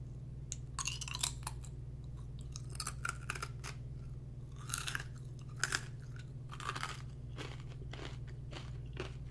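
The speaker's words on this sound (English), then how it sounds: "That's a really nice crunch." Crisp crunching and chewing of a small snack flavoured with soy sauce and flax seeds, close and intimate, with repeated bites and crackly chews in irregular bursts over a steady low hum, no talking.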